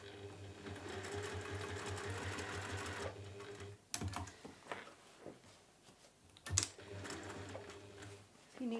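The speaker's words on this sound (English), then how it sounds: "We're now going to top stitch down both sides." A sewing machine top stitches down both sides of a fancy washbag, its steady motor whir and needle chatter running continuously for about three seconds, then breaking into shorter bursts of stitching with pauses and handling clicks.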